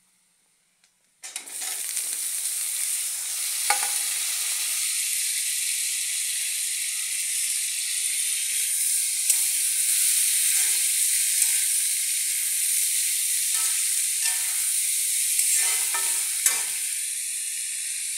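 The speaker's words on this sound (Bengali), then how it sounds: "এবার দেখো পেঁয়াজগুলো একটু ভাজা ভাজা হয়ে আসছে। এবার আমি সেদ্ধ করে রাখা কাঁঠালগুলোকে দিয়ে দেবো।" Boiled young jackfruit frying with onions in a pan, a loud continuous hiss and sizzle that starts abruptly and holds steady for the whole stretch, with occasional faint clinks of stirring, no talk.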